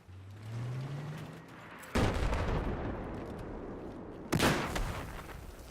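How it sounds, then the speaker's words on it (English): Flashbang grenade and gunfire in Call of Duty Ghosts multiplayer: two sharp, loud blasts with long ringing tails break over a steady hiss and a rising whine, with no talking. "So I throw the flashbang at the ground, and on purpose, obviously, I look directly at it to see the maximum effect of a flashbang."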